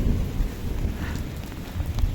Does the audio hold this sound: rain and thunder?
yes